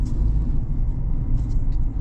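A 2.7L High Output Turbo Chevrolet Silverado pickup on a test drive, a steady low engine and road rumble from inside the cab with a few faint hisses and clicks over it.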